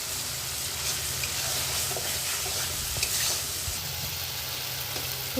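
Meat sizzles steadily while being stirred with spices in a kadai, a continuous close frying hiss with occasional scrapes of the spatula, no voices.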